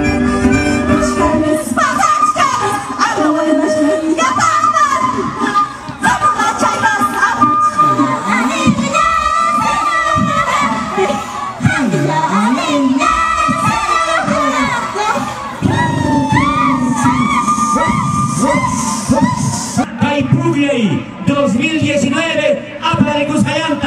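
A large crowd at the Pukllay carnival festival in Andahuaylas, Apurímac cheers, shouts and whoops for its favourite comparsas, loud and continuous, with children's shouts, music-like tones and voices mixed through the din.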